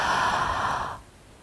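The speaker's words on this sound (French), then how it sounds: "on s'étire, on baille" A person yawns during a yoga stretch, lying with legs extended forward and arms reaching back; one long, breathy exhalation fills the first second, then trails off into quiet.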